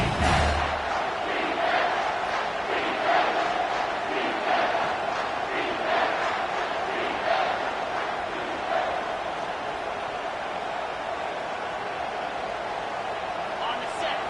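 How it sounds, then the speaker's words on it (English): A home crowd roars steadily in an American football video game on third down, a loud, dense sustained wall of cheering and chanting that fills the whole stretch, with a commentator-style voice talking over it. "Here comes this home crowd as the defense tries to get off the field on 3rd down."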